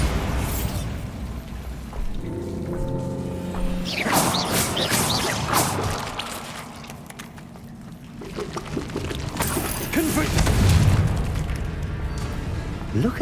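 A Bombarda blasting spell explodes in Hogwarts Legacy, loud booming crashes with rumbling debris and bursts of effects across the stretch, mixed with game sounds.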